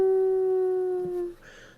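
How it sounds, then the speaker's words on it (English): A single long, steady wolf howl holds one pitch for over a second before fading out, loud and close, followed by faint rustling in a quiet setting. "All the wolves in Carnival, even the alpha, started howling."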